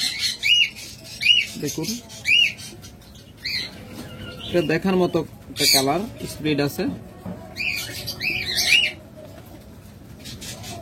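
Pet birds in a bird shop give repeated short, sharp squawks and chirps, some loud and close, with someone talking between and over the calls.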